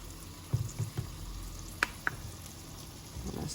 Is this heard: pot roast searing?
yes